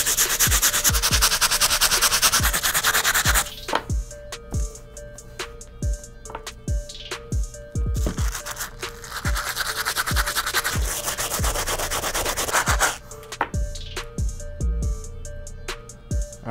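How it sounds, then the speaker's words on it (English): A stiff bristle brush scrubs the soles of grey adidas Yeezy Calabasas Powerphase sneakers in loud, rapid back-and-forth strokes, with short pauses between bursts of scrubbing. "Let's start scrubbing using our stiff bristle brush."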